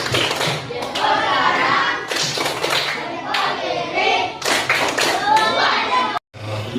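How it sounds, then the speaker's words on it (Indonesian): A classroom of children claps hands loudly and raggedly in a thumbs-up clapping cheer, with children's voices chattering throughout and a sudden brief silence near the end. "Kasih dong tepuk jempolnya, tepuk jempol"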